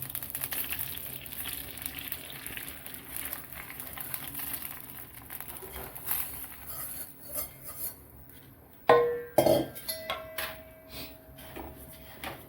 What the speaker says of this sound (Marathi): आपण परत एक तूप टाकू आणि आपण खारीक भाजून घेऊ